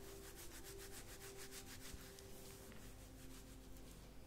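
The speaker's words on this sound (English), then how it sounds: "With conditioner, you do just want to be kind of rubbing it through the mids and ends." Conditioner rubbed by hand through the mid-lengths and ends of hair during a salon wash: soft, close, rhythmic rubbing strokes, quiet and continuous, with no voices.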